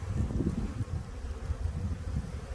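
Honeybees buzz steadily around their hives on a farm, a continuous close, dense hum with low droning swells and no talking.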